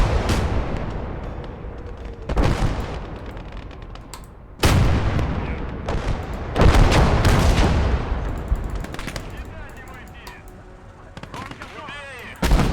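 Gunfire in a battle arrives as heavy, booming bursts with long rumbling tails, several loud reports spaced seconds apart amid a constant roar of combat noise.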